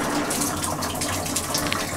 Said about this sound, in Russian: Отсоединили регулятор давления. Сейчас выходит водичка.